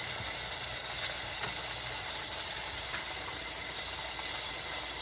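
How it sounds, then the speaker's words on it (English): Cod fillet frying in hot oil gives a steady, even sizzle and hiss, continuous and moderately quiet with no talk over it. "now I'm frying my fourth piece of fish"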